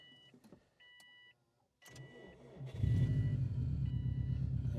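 A 2005 Subaru STi is cranked and its engine catches, settling into a loud, steady low idle after faint interior clicks and chimes.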